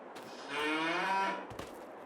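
Cattle in a pasture in Farming Simulator 22 let out a single close, fairly loud moo with a harmonic tone, lasting about a second between quiet background sounds.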